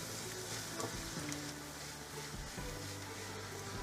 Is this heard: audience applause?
no